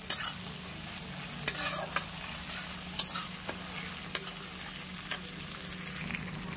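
Ginger paste frying in a pan is stirred, a steady low sizzle under sharp, intermittent spatula scrapes and taps roughly every second, close and moderately quiet, with no talking.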